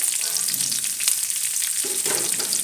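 Sliced onions with garlic, ginger and fennel seeds sautéing in hot oil with curry leaves for a potato curry, a steady close sizzle with light stirring scrapes throughout.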